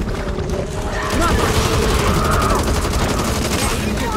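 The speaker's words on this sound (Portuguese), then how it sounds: "vamos na granada" A grenade blast in the zombie shooter Back 4 Blood lands amid dense, continuous gunfire and loud rumbling booms, with the whole scene growing louder after the first second and staying busy with clatter throughout.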